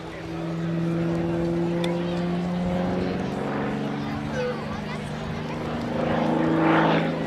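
An XA41 aerobatic propeller plane performs a canopy-up tail slide at an air show, its engine a steady droning hum with shifting tones, heard at a distance under continuous commentary.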